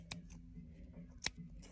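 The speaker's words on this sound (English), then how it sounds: "which you're just gonna cut really sharp scissors" Really sharp scissors snip through ribbon while a boutonniere is wired and taped, two quick crisp cuts heard up close in an otherwise quiet room.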